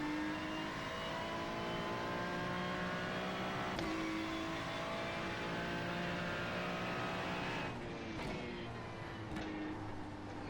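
Race car in a racing video game, its engine a loud sustained whine holding steady pitch, then dropping and shifting near the end, with a faint voice underneath.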